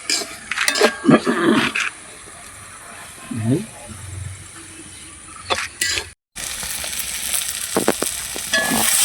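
Garlic, ginger and green chillies sizzle and crackle in a hot pan, with sharp bursts of stirring and scraping between quieter spells of steady frying.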